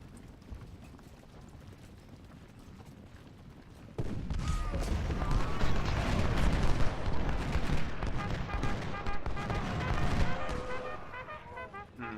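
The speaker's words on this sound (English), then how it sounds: "There's artillery right here." Civil War artillery fire in a strategy battle game: a sudden surge of heavy, rumbling cannon and gunfire bursts over a low background din, staying dense and loud for several seconds before easing slightly.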